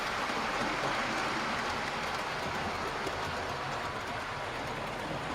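A model railway train runs along the track of a loft layout with a continuous, even rolling rumble and hiss that stays at a constant level throughout.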